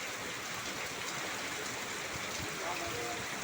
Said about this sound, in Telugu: బాగా ఫుల్గా పడుతుంది వాన